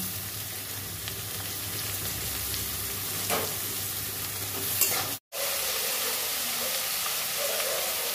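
Ridge gourd pieces hit a hot, oiled pan for a Bengali fish curry and are stirred, producing a steady close sizzle with faint scraping, broken by one brief moment of silence.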